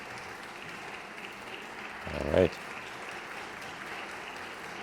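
Hand claps in a played music composition come as a short, loud cluster midway through a steady, soft musical bed, with a brief spoken remark.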